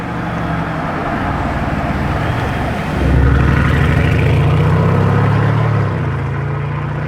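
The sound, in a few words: Lamborghini Revuelto hybrid supercar engine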